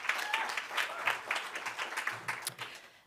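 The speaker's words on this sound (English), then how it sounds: "a round of applause to our organizing team, to Dr. Nick and all the partners" A modest round of applause from a conference audience for the organizing team, with scattered, distinct claps that rise and dip unevenly, and occasional voices under the clapping.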